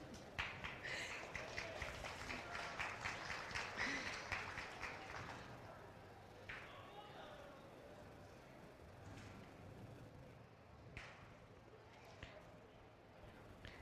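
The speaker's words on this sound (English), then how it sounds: "applause is great" An audience at a county rabbit show claps in a brief burst of applause that fades within a few seconds, giving way to quieter room noise and scattered taps.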